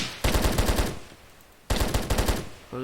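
Rapid pistol gunfire in the Minecraft video game, two quick bursts of sharp cracking shots about a second apart, close and punchy with a short quiet gap between.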